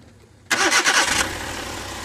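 A Suzuki DA64W turbo engine with a rough-running condition cranks and catches after a short quiet moment, a loud burst of starting noise that quickly settles into a steady idle, close by and without talk.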